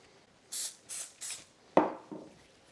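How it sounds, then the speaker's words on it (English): Avocado oil cooking spray misted onto a hand during bread baking, three quick close hissing bursts followed by a soft rubbing smear and a fainter brushing sound. "I'm going to spray my hand as well."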